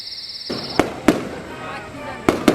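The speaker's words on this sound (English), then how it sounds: "carnivals and fireworks mark the end of summer for people" Fireworks over a small town at the end of summer burst in sharp cracks, a single one, then another, then a quick double, ringing against a background hiss after a faint whistle.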